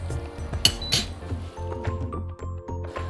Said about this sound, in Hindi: अब गुड़ को भी इसमें अच्छे से मिक्स कर लेते हैं